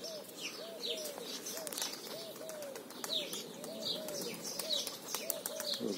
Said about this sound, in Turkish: Mehmet Hoca'nın kuşları da uçuyor.